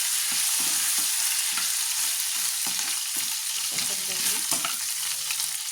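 Cumin and ginger garlic paste fry in hot oil for a ridge gourd dish, a steady close sizzle broken by repeated scraping stirs, with no talking.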